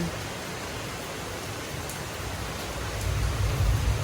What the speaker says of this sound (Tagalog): Pag ganito pong mga hapon, mga kadilag, ay talaga pong umuulan na dito sa aming kadalasan.